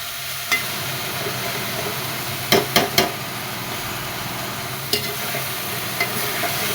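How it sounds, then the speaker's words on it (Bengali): Fresh rooftop-garden water spinach (kolmi shak) fries in a pan, giving a steady, close sizzle. A spatula stirs it, adding a few sharp scraping knocks in a quick cluster midway. "একদম ভাজা ভাজা করে নিলাম।"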